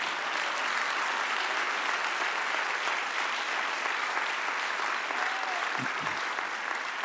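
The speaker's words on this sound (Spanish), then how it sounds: "dáselo grande el aplauso" Loud, sustained applause from a large church congregation, dense clapping that holds steady throughout.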